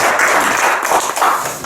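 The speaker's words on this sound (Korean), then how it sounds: "박수 한번 치시죠" Applause from an audience at an indoor forum, a brief burst of many hands clapping at steady strength, fairly close and without talk.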